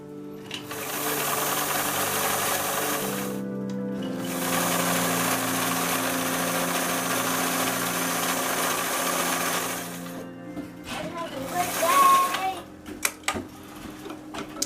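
A domestic sewing machine stitches a dress in a close, steady mechanical whir with brief pauses, then stops, leaving quieter handling noises and some nearby voices at the end.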